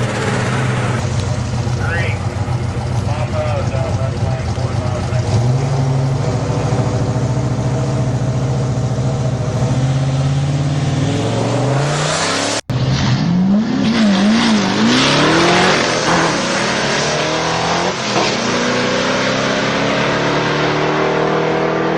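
Turbocharged 1985 Mercury Capri RS with a big Garrett turbo and AOD automatic transmission, its engine revving loud and sustained, with rising and falling pitch sweeps and a brief cut midway.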